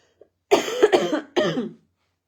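A short burst of coughing: three quick, harsh coughs close to the mic, with silence before and after.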